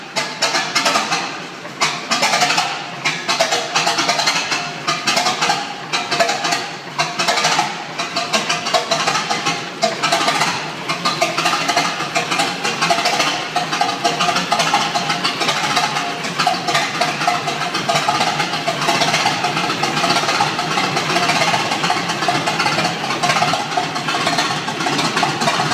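A repaired Winton 106A petrol engine starts and settles into a steady idle, a continuous loud mechanical rumble with a dense rhythmic chatter that holds through to the end.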